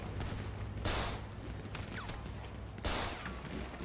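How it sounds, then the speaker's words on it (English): Gunfire in a GTA 5 roleplay shootout, with sharp shots set against a steady background of action, two louder bursts standing out about two seconds apart, fairly faint overall and with no speech. "Bro, I'm getting shot at from every angle!"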